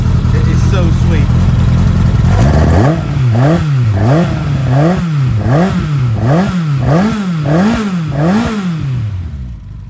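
A 1150 engine on a track prep day at Brands Hatch, idling loud and close, then revved hard in a steady run of rising and falling blips, about eight in a row, rough and throaty throughout.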